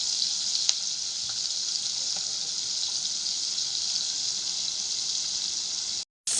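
Onion fries in butter and oil in a pan, a steady, loud hiss of sizzling that runs almost unbroken, with a few faint clicks, before cutting out abruptly near the end.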